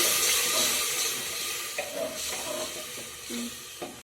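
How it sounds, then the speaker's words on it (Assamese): A glass of water poured into rice for egg biryani, a steady close splashing rush of liquid lasting several seconds with a few small clatters near the end. "যিটো গিলাচে লৈছিলোঁ সেইটো গিলাচে মই 1 গিলাচ পানী দিম"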